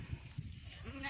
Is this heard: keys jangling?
no